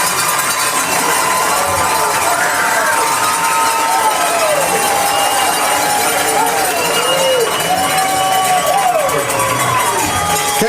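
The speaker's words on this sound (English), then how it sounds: "Crowd appreciative." A high school football crowd at Corbin vs Pulaski cheers and shouts in a thick, sustained roar, with scattered whoops and calls rising over a steady wash of many voices.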